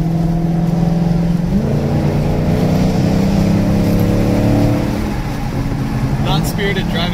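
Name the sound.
Dodge Demon car rolling out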